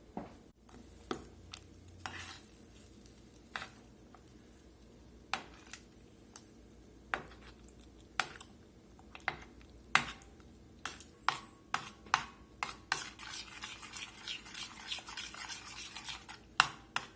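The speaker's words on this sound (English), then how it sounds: "Let that butter melt and we'll get this mixed together." A spoon taps and scrapes in a pot on low-medium heat as peanut butter and butter melt together, giving a series of sharp clinks at irregular intervals and a soft stirring sound between them, with no talk.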